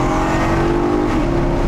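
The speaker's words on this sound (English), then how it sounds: "As you can see, them gear changes are instant." A Maserati GranTurismo S 4.7 MC accelerates on back lanes, its engine note climbing in a loud, sustained pull with a quick gear change near the end and no talking over it.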